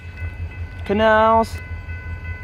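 A Kiamichi Railroad short-line train in Idabel, Oklahoma sounds its horn in one loud, sustained blast of about half a second, set against quiet rumbling background noise, with a brief voice nearby.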